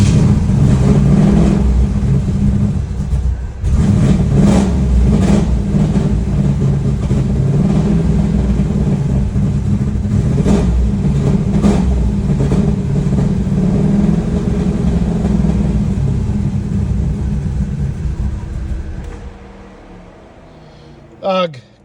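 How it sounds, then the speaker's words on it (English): A 1985 Trans Am engine with a dead cylinder, freshly lapped valves and tuned port injection, idles loud and close with a rough, uneven chug for about twenty seconds before cutting off near the end. "Well, you can just hear that dead cylinder right away."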